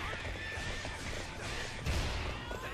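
A horse in the video game Hyrule Warriors lets out a loud whinny over busy game noise and hoofbeats, with a heavier thump partway through.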